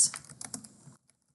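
Rapid keystrokes on a computer keyboard while building a case statement in SAS Enterprise Guide, a dense close burst of clicks for about a second, then silence.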